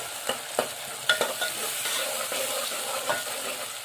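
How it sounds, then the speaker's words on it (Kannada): Ingredients for horse gram curry fry in a pan, giving a steady soft sizzle with a few sharp scraping stirs and clicks of a utensil, close and moderately quiet, no voices. "ಇವಾಗ ಫ್ರೈ ಮಾಡ್ಕೋಬೇಕು ಚೆಂದಾಗಿ"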